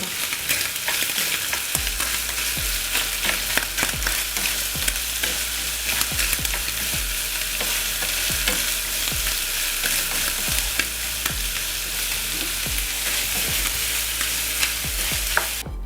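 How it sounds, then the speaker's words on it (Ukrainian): Onion and bacon sizzle steadily in a hot pan, with occasional scraping and stirring sounds over the constant loud frying hiss. "І все добре смажимо до золотистого кольору."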